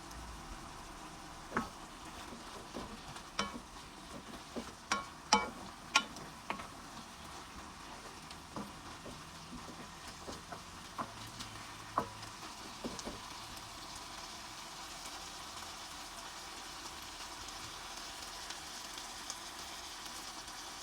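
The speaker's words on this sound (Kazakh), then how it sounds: "саңырауқұлағымыз салып, араластырып қуырамыз." Mushrooms fry quietly in a pan, with a faint steady sizzle and scattered sharp clicks and scrapes from stirring throughout.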